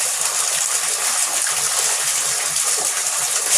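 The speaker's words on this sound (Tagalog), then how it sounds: "ako kukuha ng tubig na pandagdag dito sa tubig sa pan ko na to." Clean water gushing steadily into a pan that holds koi fish, a continuous close pouring rush with no pauses and no talking.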